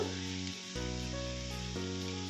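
Green chillies, five of them, fry in hot oil in a pan with a steady close sizzle throughout, a broad hissing layer with a brief dip near the middle. Nobody talks.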